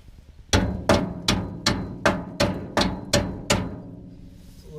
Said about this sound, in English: Grab the hammer. Let's see if I can just tap it from the bottom.